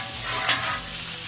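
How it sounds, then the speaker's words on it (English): Eggs, hash browns and cheese stirred together in a hot pan, with a steady close sizzle and a brief scrape of the utensil midway, no voices. "I'm going to give it a good mix."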